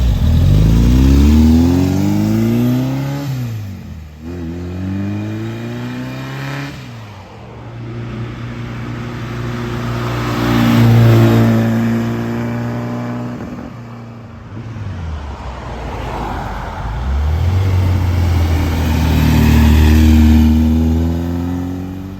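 A custom 1960 VW Karmann Ghia makes repeated driving flybys, its engine revving as it approaches, peaks loudly up close and fades away, with several passes separated by quieter gaps and no talking.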